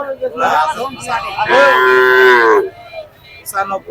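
Cattle moo loudly nearby at a cattle market, one long drawn-out low call standing out among shorter bellows.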